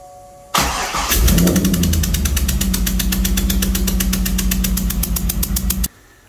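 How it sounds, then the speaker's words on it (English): A car's LS V8 engine cranks with a rapid ratcheting starter whir that runs for about five seconds under a loud steady hum before cutting off abruptly. The engine has had its valve springs replaced, and a compression tester is still fitted in cylinder 8. "Let's see if she starts."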